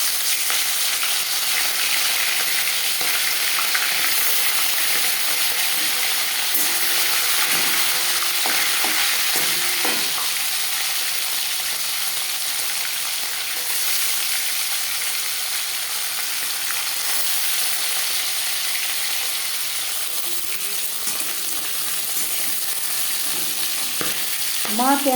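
Marinated bhetki fish sizzles steadily in hot refined oil, a loud continuous frying hiss with occasional stirring and pan scrapes, close by and with no talk.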